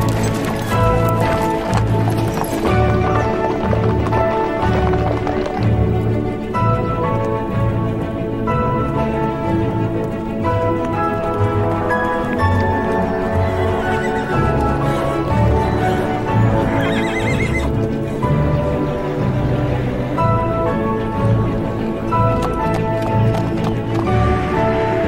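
Horses set off at the start of an endurance race with continuous pounding hoofbeats and repeated whinnies, loud and close throughout.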